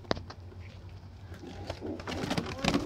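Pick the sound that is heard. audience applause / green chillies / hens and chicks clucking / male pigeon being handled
male pigeon being handled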